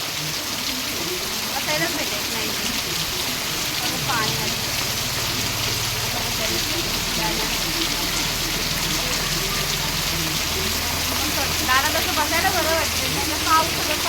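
Steady rain falls close by with a constant soft hiss and patter, while a low hum and faint voices sit underneath.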